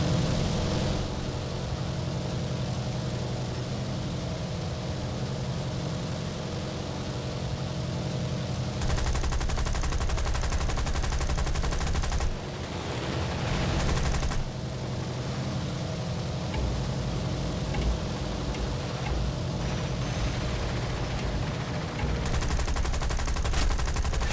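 Aircraft gunfire in War Thunder, with dense bursts of machine-gun fire over a constant engine roar and sharp, abrupt shifts in intensity as bursts start and stop, loud and close throughout.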